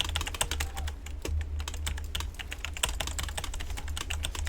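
A 60% mechanical keyboard rattles under quick, continuous typing, sharp close keystrokes in a busy irregular patter, with a faint low hum beneath.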